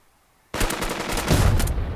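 Rapid automatic gunfire in the WWII tactics game Burden of Command, Operation Torch, bursting in abruptly after a near-silent moment and rattling loudly and continuously up close.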